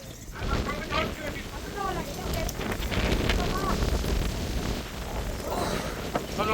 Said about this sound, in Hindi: इतनी हवा चल रही है